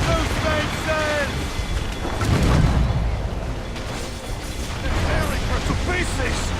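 Ship cannons boom during a naval battle in Assassin's Creed Rogue, with a heavy blast near the middle over steady sea and wave noise, mixed with shouted commands from the crew.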